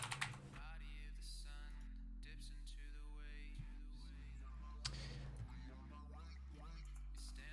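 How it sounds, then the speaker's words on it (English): Keystrokes on a computer keyboard during a League of Legends jungle coaching session: quick irregular clicking under continuous game sounds and background music, faint and close, with no talk. "What the heck am I typing?"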